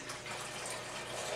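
Seawater pours steadily into a cooking pot for boiling lobster, a continuous broadband rush and splash that stays even and close for the whole short stretch, with no talking.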